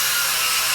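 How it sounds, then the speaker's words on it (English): A power drill bores a hole into a Razor Dirt Quad electric ride-on during a battery upgrade, producing a loud, steady high-pitched whirring grind that fills the short moment without pause. "let's go ahead and drill a hole here"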